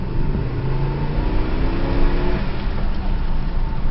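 A 2005 Ram Dakota pickup's V8 engine revs loudly up close, its deep rumble rising and falling in pitch as the throttle opens.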